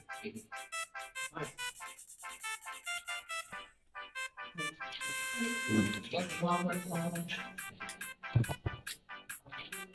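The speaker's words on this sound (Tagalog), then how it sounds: "Ingay ng cellphone ng kabila, oh." A neighbor's cellphone rings with a bright, melodic electronic tone that repeats steadily for several seconds, coming through from nearby and growing louder partway. Voices talk over it.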